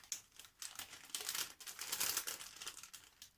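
A baking-paper sewing pattern is lifted and handled, giving close, quiet crinkling and rustling in uneven bursts with no voice over it.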